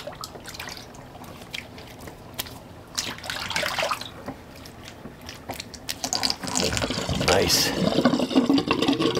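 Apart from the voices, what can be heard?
water draining from a bathroom sink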